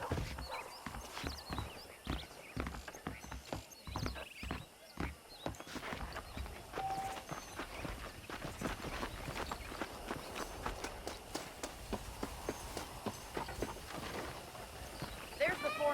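Horse hooves clip-clop on the ground in Red Dead Redemption, a steady rhythmic patter of hoofbeats running throughout under talking voices and game background sound.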